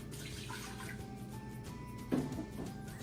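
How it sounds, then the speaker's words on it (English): A cup of water poured into a pressure cooker, a short splashing gurgle over a steady low hum, ending in a brief louder splash. "1 cup of water"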